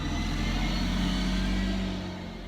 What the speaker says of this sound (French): il y a plein de voitures dehors